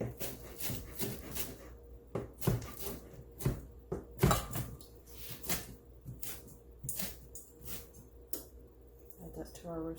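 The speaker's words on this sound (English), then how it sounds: "we're just going to chop this up" Knife chopping spinach on a cutting board, a quick series of sharp, close taps in uneven bursts with short pauses, fairly quiet, with no talking over it.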